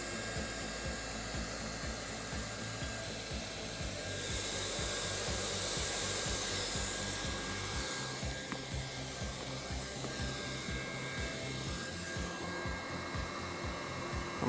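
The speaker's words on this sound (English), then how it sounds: "You're really just blowing hot air on your seam just to kind of darken it up and giving it color." A hot air welder blows a steady, close rush of air over a seam while routing and heat welding, a continuous hiss that swells slightly in the middle and carries a low, even motor hum with no talking.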